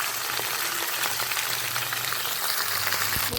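Green chillies frying in a pan of hot oil, a dense, steady close-up sizzle with a low hum underneath, no voices.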